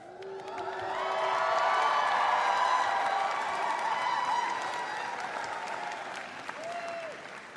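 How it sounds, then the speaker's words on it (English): Graduation ceremony audience applauding and cheering for newly presented Doctor of Pharmacy cooperative program graduates, a dense sustained wave of clapping with shouts and whoops that swells within the first two seconds and holds steady throughout. "I always learn to wait when you announce the pharmacy because the cheer is always coming"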